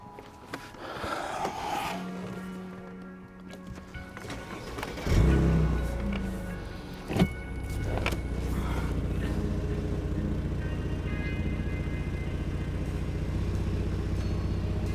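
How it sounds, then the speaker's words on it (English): A Mercedes SL R230 fitted with 100mm rear body spacers starts with a low crank and rumble, then settles into a steady idle as it is put into drive, a clunk marking the shift. "just start the car, put it into drive, and hopefully it won't make any noises"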